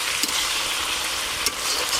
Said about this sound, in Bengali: মাংসগুলো খুব ভালো করে নেড়ে নিয়েছি